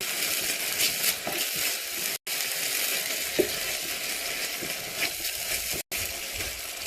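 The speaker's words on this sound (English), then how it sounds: "I will be adding in my ginger and garlic paste. We're going to mix that in." Ginger and garlic paste stirred into hot oil in a frying pan, a steady close sizzle with soft scraping and stirring, no talk.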